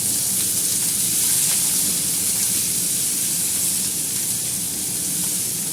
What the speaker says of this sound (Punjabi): ਆਪਾਂ ਪਿਆਜ਼ਾਂ ਨੂੰ ਨਾਰਮਲ ਜਿਹਾ ਚੰਗੀ ਤਰ੍ਹਾਂ ਭੁੰਨ ਲਿਆ